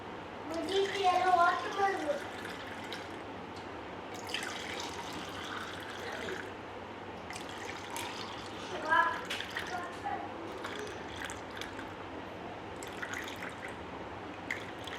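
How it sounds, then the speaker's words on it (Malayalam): Grape juice is poured for a Ramadan fast-breaking drink, a splashing trickle and drip that comes and goes under soft background voices. "അതായത് ഗ്രേപ്സ് ജ്യൂസാണ് ഒഴിച്ച് കൊടുക്കുന്നത്"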